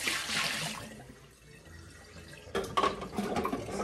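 Water pouring into a pressure canner, a broad, hissing splash that is strong at first, fades away, then surges back in a louder, choppy burst.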